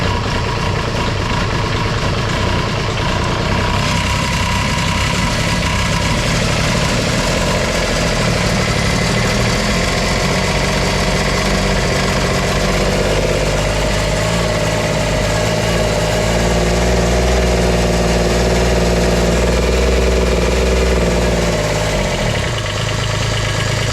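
A non-running Kubota RTV900 utility vehicle's diesel engine, freshly fitted with a new starter and running smoky, gives a loud, steady low rumble and knocking idle close by throughout, with no talking.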